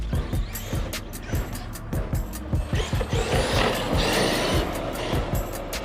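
A 1/5 scale Arrma Outcast 8S RC car drives at half throttle, a steady electric whine with rapid rattling, clicking drivetrain noise and repeated knocks as it moves over the ground, fairly loud and close.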